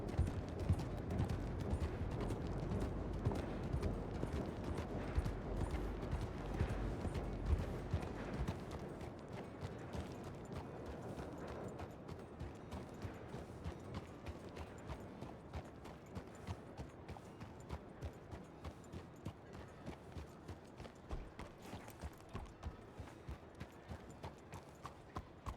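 Horse hooves clip-clop steadily in Red Dead Redemption 2, a continuous rhythmic trot of fairly loud, close footfalls that runs throughout, growing slightly lighter and more evenly spaced after the first few seconds.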